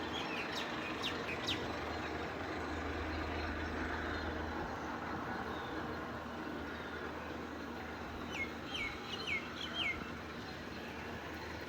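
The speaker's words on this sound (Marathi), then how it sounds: "बाहेर तर छान अशी पक्ष्यांची किलकिलाट सुरू होती, तर ते खिडकीतून मला आवाज येत होता" Faint bird chirps heard through a window come in short bursts, at the start and again near the end, over a steady distant hum of traffic.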